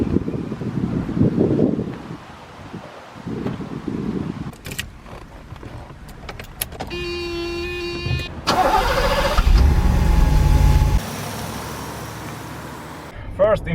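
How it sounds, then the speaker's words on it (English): A 1987 Mercedes 560 SEL W126 fires up and pulls away, a brief cranking burst followed by a steady engine note that swells under acceleration, with wind noise and brief voices around it. "Let's take the W126 for a drive."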